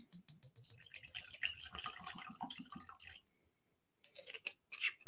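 Bimber port-cask whisky glugs and drips from a bottle into a glass, a close, wet, irregular trickle lasting about three seconds, then a pause and a few more short splashes.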